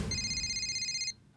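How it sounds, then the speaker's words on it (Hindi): A telephone rings with a steady electronic trill for about a second, then cuts off abruptly. "बागा अंकल का फोन है।"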